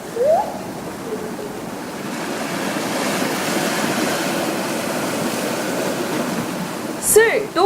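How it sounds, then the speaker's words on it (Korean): Sea waves breaking against porous, hole-riddled rocks on Seuldo island in Ulsan, a continuous rushing wash of surf with wind noise and brief rising tonal sounds at the start and near the end. "이때 파도와 바위가 마주치는 소리가 마치 검은고 소리 같다고 해서 붙여졌다고 합니다"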